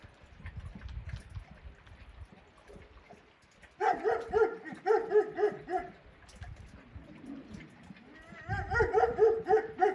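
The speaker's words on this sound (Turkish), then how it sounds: "Onlar domuz köpeği. Av köpeği yani." Boar-hunting dogs bark and bay in repeated bursts at a moderate distance, with quieter rustling and murmuring between the outbursts.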